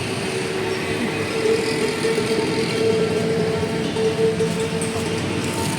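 A steady rumble of a passing electric train in Thailand, with a droning hum and rattling underneath, continuous and moderately loud.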